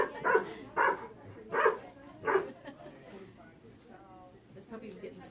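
A puppy barks in four sharp bursts near a doorway, then falls quiet as people talk over it.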